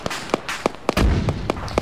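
Mortar fire in a video game: a series of evenly spaced sharp thumps, about seven in under two seconds, with a heavier low explosion rumbling partway through.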